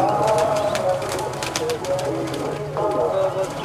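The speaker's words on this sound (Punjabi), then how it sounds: "ਮੇਨ ਕਬੂਤਰ ਹੈ ਇਹਨਾਂ ਦਾ" A nine-year-old champion racing pigeon coos in a series of rolling, throaty calls close by, with people talking over and around the cooing.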